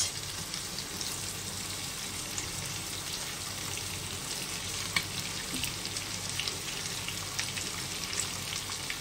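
Onion fries in oil in a pan for a jackfruit and prawn curry, a soft, continuous hissing sizzle with scattered light pops, steady and quiet throughout.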